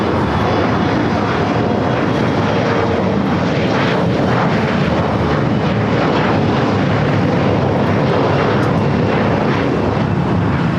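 An Embraer E175 jet taking off for Phoenix, heard as a loud, steady broadband engine roar that holds throughout with no speech.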